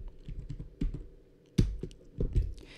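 Computer keyboard keys are pressed for a shortcut, giving a handful of quick, close clicks in short irregular clusters over a quiet background.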